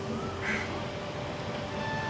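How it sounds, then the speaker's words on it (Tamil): A few ducks at a village pond give a short, faint quack amid steady outdoor background noise, with no talk. "ஒரு 4-5 வாத்து இருக்குது. தண்ணிலாம் அழகாக குடிக்குது."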